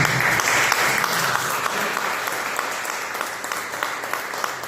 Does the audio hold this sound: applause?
yes